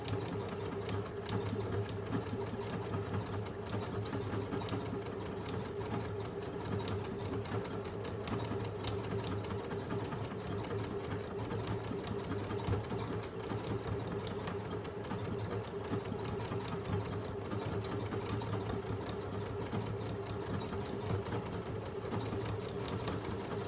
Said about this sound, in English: I'm just going to set the machine sewing.